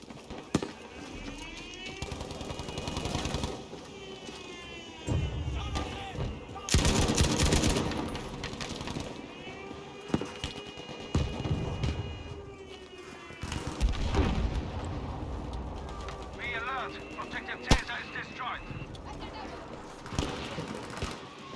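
Rapid bursts of gunfire and explosions from the game Battlefield V crackle throughout, mixed with excited Thai voices talking over the action.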